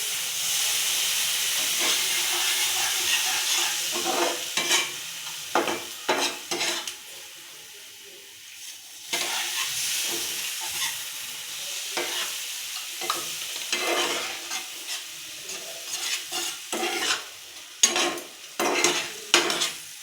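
A semolina luchi mixture with added water is stirred in a hot pan, a loud steady sizzle and hiss broken by repeated scraping strokes, with a brief quieter lull midway.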